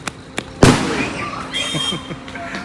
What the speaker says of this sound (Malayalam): വിഷുവിൻ്റെ പടക്കം പൊട്ടിച്ചതാ